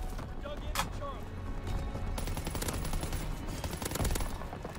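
An aircraft gunner's machine gun in Call of Duty WWII fires in rapid rattling bursts, building after a brief lull and running to the end, with faint game voices mixed in.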